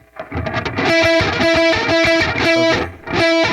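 Distorted electric guitar playing short chords and a brief riff, loud and upfront, with a dry sound and no echo or reverb tail.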